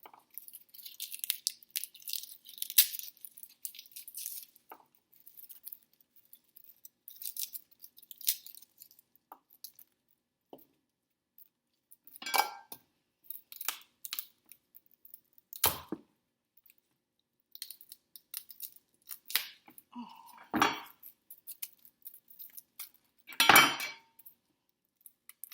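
Garlic cloves being peeled by hand at a kitchen prep counter, with a series of brisk, close papery crackles and small clicks scattered in uneven bursts, some quiet gaps between them.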